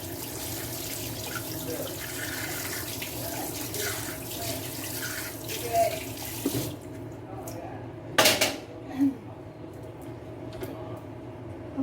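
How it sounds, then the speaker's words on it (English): Tap water runs steadily into a sink while a Thermomix bowl is washed, then cuts off, leaving scattered drips and knocks of the bowl against the basin at close range. "I show you how to wash the thermomix bowl"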